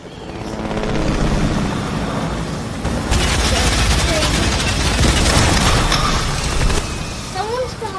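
Fortnite battle royale helicopter rotor drone blending with continuous rapid gunfire bursts, loud and dense throughout, with players talking over the game action.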